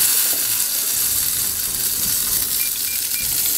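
Meat searing in a hot pan, a steady, dense hiss and crackle of sizzling fat that stays even throughout, close and moderately loud with no talking.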